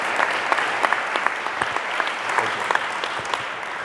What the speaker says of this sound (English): Let's give Mr. Schmidt a big round of applause.